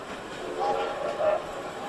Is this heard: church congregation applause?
no